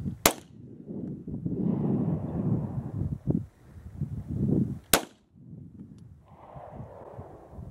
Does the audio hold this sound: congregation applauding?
no